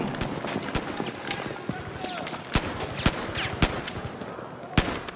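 Gunfire in Battlefield 4 on Xbox One: a steady run of sharp shots and short bursts, some close and loud, others farther off, with a voice talking over the fighting.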